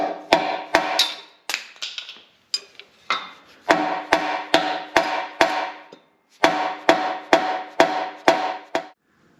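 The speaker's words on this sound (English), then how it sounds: "So I got a little dead blow hammer and we'll just pound that back in." Repeated sharp thuds from a dead blow hammer pounding metal, struck in quick bursts of several blows with short pauses between, close and loud.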